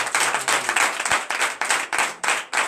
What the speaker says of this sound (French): Et je vous demande d'applaudir encore